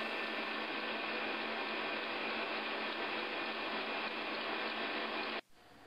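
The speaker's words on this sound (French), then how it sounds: "On ralentit pas le batteur." An electric mixer beating Italian meringue for macarons runs at full speed as a loud, steady whir, then cuts off abruptly near the end.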